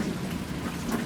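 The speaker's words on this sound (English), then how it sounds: "You can hear the thunder probably" Steady rain pouring outdoors in Florida during a thunderstorm, a dense, loud wash of drops with a low rumble underneath, continuous and without talk.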